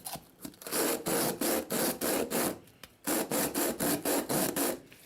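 Sandpaper rubbing material off a Tapco vertical grip in a fast series of rasping back-and-forth strokes, close and fairly loud, with brief pauses between bursts.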